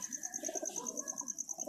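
Pigeons cooing softly in a loft of Rajshahi high-flying racing pigeons, a low repeated burbling coo with a steady high electronic whine behind it.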